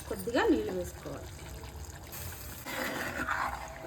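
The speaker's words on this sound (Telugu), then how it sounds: "కొద్దిగా నీళ్ళు వేసుకోవాలి." Water is poured into a pan of chicken curry, making a soft trickling splash that rises again near the end. A voice can be heard faintly in the background.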